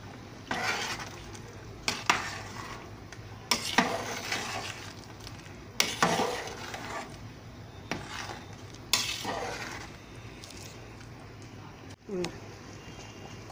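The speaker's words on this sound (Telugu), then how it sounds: "ఆ కొబ్బరి పౌడర్ వేస్తున్నాము. వేసి తిప్పాలి." A spoon stirs coconut powder into chicken curry in a pot, giving repeated scraping, clinking strokes at a steady rhythm against a faint sizzle, with a voice speaking intermittently.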